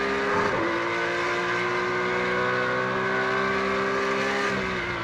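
Porsche race car in a racing video game at Imola, flat out on the main straight near 167 mph, its engine a steady, loud high-pitched drone with a brief shift in pitch early on and no voices.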